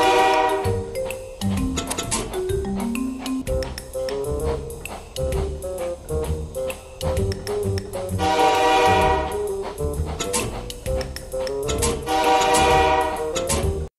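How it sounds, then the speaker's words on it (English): A train's horn-like whistle from a 2010 SpongeBob web game sounds repeatedly over busy, rhythmic chiptune-style music, with bright tinkling accents; loud and close throughout, no talking. "the sound of the whistle really upset my dog"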